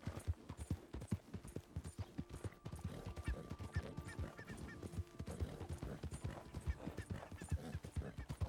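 Horse hooves clip-clop in a steady, continuous rhythm throughout, fairly close and prominent, with faint honking fowl in the background.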